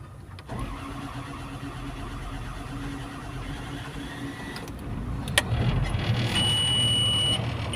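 A Volvo EC210BLC excavator, just fitted with a new ECU after a no-start fault, cranks and catches early, then idles with a steady close diesel rumble while thin electronic beeps sound near the end.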